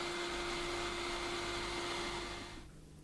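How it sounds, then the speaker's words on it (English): A vacuum cleaner drones steadily while dust is cleared from steampunk chronograph clock kit parts, with a strong whining hum that drops away sharply near the end as it switches off; no one speaks. "Vacuum off any dust."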